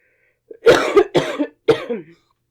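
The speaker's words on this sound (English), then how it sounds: "So, excuse me, I do have to cough." Three harsh coughs from a person with flu come in close succession, close and loud against silence.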